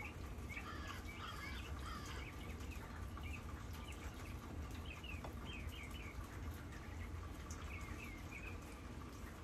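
Birds singing outdoors beside a rural back deck near cows in fall, repeated chirping phrases at a moderate distance over a steady bed of insect buzz and faint ambient hiss, with no talking.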